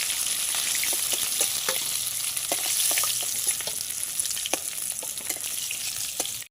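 Bhangor fish frying in oil in a pan until browned, a constant close sizzle with frequent crackling pops and light stirring taps before it cuts off abruptly.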